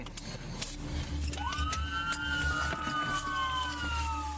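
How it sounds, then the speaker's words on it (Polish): A police car siren wails on during a chase after a car with no plates, rising and holding a steady electronic tone over engine rumble and road noise. "Policjant włącza syreny."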